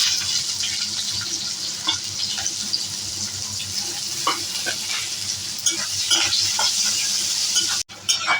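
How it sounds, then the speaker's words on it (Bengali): Chopped onions frying in hot oil with a dried red chilli and a bay leaf, a continuous close sizzle broken by scraping stirs, ending with a short clatter. "পেঁয়াজটা লাল লাল করে ভেজে নেব।"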